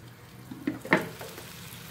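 Beef fillet steak cooks on a grill with a faint, steady sizzle, broken by a couple of brief crackling spurts partway through.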